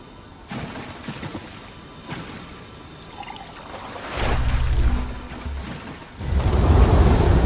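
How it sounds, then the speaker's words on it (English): An elixir is poured into a pool in The Elder Scrolls Online: soft trickles and dribbles give way to two louder, fuller splashing pours, each lasting a second or two, with no talk over them. "Pour the elixir into the pool."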